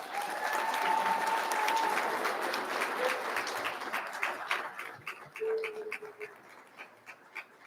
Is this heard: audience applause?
yes